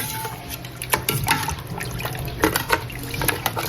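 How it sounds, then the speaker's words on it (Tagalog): Two glasses of water poured into a pot of buffalo meat stew, a steady watery splash and trickle with a few louder sloshes and clinks, heard up close without talk. "Ito po ay lalagyan lang din po natin ng 2 baso po na tubig."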